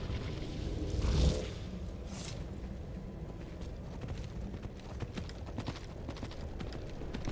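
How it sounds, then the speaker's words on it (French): Horse hooves clip-clop in the video game Skyrim, soft irregular footfalls over a constant outdoor wind-like ambience, with a brief louder bump early on and no talking. "on va appeler notre cheval Arvak"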